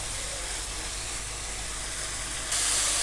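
Keema mince frying with onions and green chillies in a pan gives a loud, steady broadband sizzle up close that brightens toward the end, with no talking over it.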